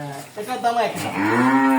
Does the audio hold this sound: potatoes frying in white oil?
no